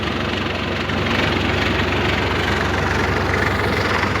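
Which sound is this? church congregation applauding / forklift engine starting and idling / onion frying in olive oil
forklift engine starting and idling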